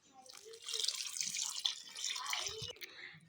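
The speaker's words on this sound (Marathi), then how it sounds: "तर आपण पहिलं पाणी घालून घेणार आहोत" Water poured onto soil in a household plant pot being prepared for mint planting, a steady splashing trickle that runs close and moderately loud for about three seconds, ending in a few drips.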